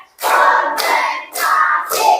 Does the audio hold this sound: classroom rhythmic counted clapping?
yes